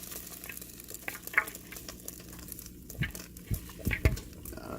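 Pot roast bubbling in a pot as potatoes and carrots go in, a soft sizzling simmer under scattered clinks and thuds of food and utensils, fairly quiet and close.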